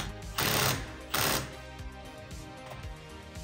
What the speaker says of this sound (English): then we're gonna hit it with the impact.